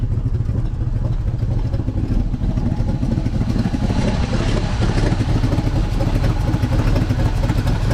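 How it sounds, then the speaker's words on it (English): A 1964 Chevy grain truck engine running on only the fuel in its carburetor, a loud steady rumbling idle with clattery mechanical noise throughout. "I think it's just running off of what's in the carburetor right now."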